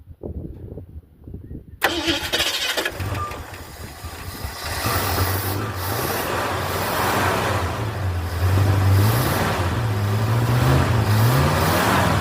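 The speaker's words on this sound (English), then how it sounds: "let's go start it up with the key and see if everything's working good" A Ford Fairlane with a newly installed Holley carburetor cranks briefly on the key, catches and fires up loudly, then settles into a rough idle with several rising revs close by.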